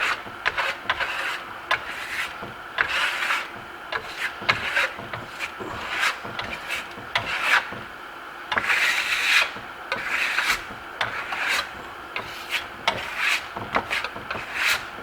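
Wax is rubbed by hand onto a black plaster wall in repeated close, rasping strokes of uneven rhythm, with brief pauses between passes.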